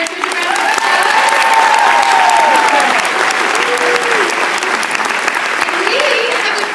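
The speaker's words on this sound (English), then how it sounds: "So let's give the executive sales directors a round of applause" An audience at a sales career event breaks into sustained applause for executive sales directors, dense clapping that stays loud and even throughout with a few cheers and voices rising over it.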